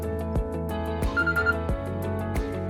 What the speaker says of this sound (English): My phone's ringing from my ad.